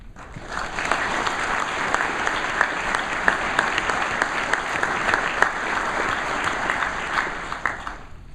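Sustained, full applause from a summit audience honouring the production team during closing remarks, a thick, even roar of many hands clapping at constant loudness with no voices.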